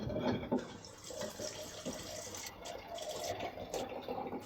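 Water draining out of an aquarium CO2 hose, a faint close trickle and splash with small drips, irregular and quiet, and no talking.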